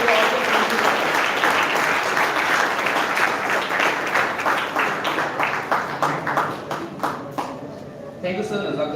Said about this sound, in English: Give a big round of applause to Achal Panjikar.